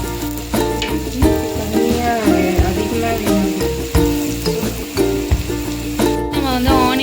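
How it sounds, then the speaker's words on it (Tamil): A chapati frying in oil on a dosa griddle, giving a steady sizzle through the whole stretch, with intermittent tonal sounds layered over it. "இப்போ நம்ம வந்து சப்பாத்தி போட்டுட்டு அதில் வந்து ஆயில் போட்டுக்கிறோம்."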